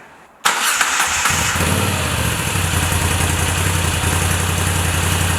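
A Moto Guzzi motorcycle fitted with an Agostini exhaust fires up with a sudden loud start, then settles into a steady, rumbling idle with slight revving, close and alone.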